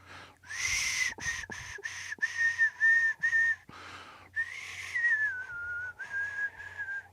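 A man whistles a melody of sustained, sliding notes broken into short phrases, loud and close, with a faint low hum underneath.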